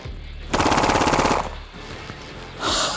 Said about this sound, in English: just the flick of the switch, and we'll go with the rest of the 17 round mag